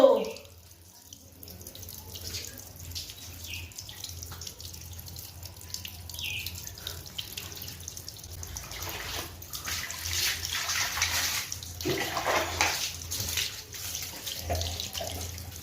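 Tap water runs steadily while a Labrador dog is showered, a continuous hissing splash with faint dripping that swells louder in the second half, close by with no talking.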